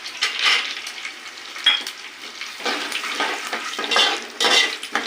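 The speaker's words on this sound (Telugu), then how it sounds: "ఎల్లిపాయలు వేసుకున్నాక కొద్దిగా వేగనియండి" Garlic sizzles in a hot pan as a spoon stirs it, giving a steady close crackle with scraping bursts at intervals and no voices.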